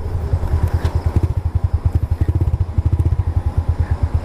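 A motorcycle engine under repair idles nearby in a motorcycle workshop with a loud, rhythmic thumping putter, steady and uneven like a single-cylinder bike.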